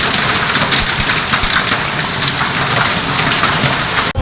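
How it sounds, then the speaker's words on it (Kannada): An unseasonal heavy rain and hailstorm in Kalghatgi, Dharwad district, roars as a dense, loud hiss of drops and hailstones pounding surfaces, steady throughout and ending abruptly. "ಅಕಾಲಿಕವಾಗಿ ಸುರಿದಂತಹ ಭಾರೀ ಮಳೆ ಹಾಗೂ ಆಲಿಕಲ್ಲು ವರ್ಷಧಾರೆ."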